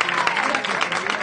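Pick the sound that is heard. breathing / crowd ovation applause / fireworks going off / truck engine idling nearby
crowd ovation applause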